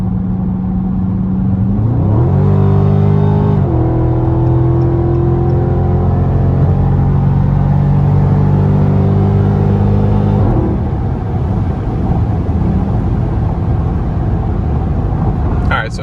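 A cammed Ram Scat Pack 392 V8 in track mode gives a loud, quick rev: the engine idles with a lumpy rumble, climbs sharply to a sustained high-rpm roar for several seconds, then drops back to a choppy idle.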